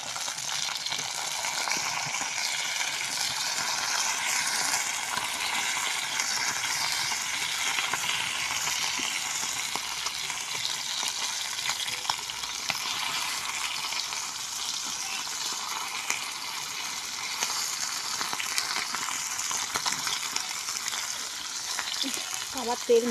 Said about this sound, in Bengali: এরকম মাছ ভাজি এখানে